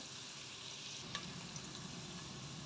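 Potato and green peas curry ingredients sautéing in a pan give a quiet, steady sizzling hiss with a couple of faint clicks, and no voices are heard.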